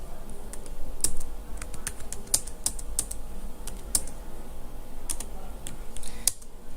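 Fingers tap on a computer keyboard in billing software, a run of crisp, irregular key clicks close by, with a few sharper presses standing out like the enter key being struck.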